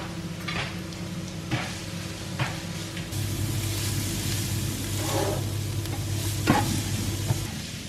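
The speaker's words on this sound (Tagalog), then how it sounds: "Ilalagay na natin yung carrots" Carrots frying in a pan, a steady close sizzle that grows fuller partway through, with several sharp scraping stirs of a utensil against the pan and no talking.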